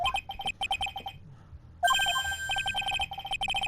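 Cell phone ringing in the courtroom game Phoenix Wright: Ace Attorney, a repeated electronic ringtone of short bursts that breaks off briefly and then resumes louder with a sustained tone.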